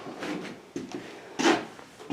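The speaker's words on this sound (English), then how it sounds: "You got sliding pocket doors." A sliding pocket door in a bedroom or bathroom of a home under construction rolls and bumps in a few short, fairly quiet wooden slides and knocks, with a louder scrape near the end.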